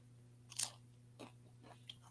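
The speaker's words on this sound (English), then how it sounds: "I don't know if you can hear it through the microphone, but the crunch on this is incredible." Homemade sesame crackers bitten up close, giving three crisp, crackly crunches spaced about half a second apart, the first the loudest, over a low steady hum with no talking.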